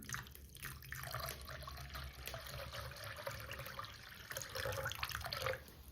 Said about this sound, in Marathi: आता आपण ह्याच्यात पाणी ओतून घेऊ